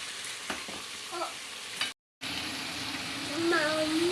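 Fish fries in hot oil with a steady, close sizzle and crackle. The sound cuts out briefly, then returns, with faint voices and kitchen noise in the background.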